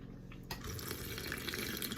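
Tap water runs steadily into a container from a sink faucet, the flow growing fuller and louder after the first half second, a continuous close splashing fill with no talk.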